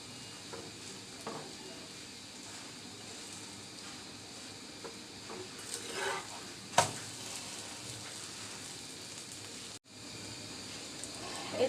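A liquid egg paratha frying in a pan makes a soft, steady sizzle, broken by a few scraping stirs and a sharp clatter midway, then a brief gap before frying resumes.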